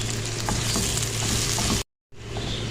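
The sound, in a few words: ginger garlic paste and onion frying in a pan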